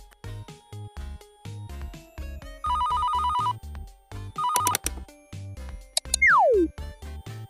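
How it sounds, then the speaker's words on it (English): Telephone ringtone in a dress-up video game, a repeating electronic ring in short bursts over a steady beat of game music, ending with a descending tone. "this time we answer, and it's Florence"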